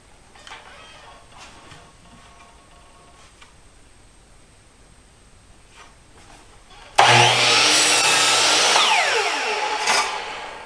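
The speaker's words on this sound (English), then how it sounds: "I just want to do some test lap cuts with dado blades" A table saw fitted with dado blades makes a test lap cut in wood, a sudden loud whining bite after quiet workshop sounds that holds for a few seconds and then tapers off.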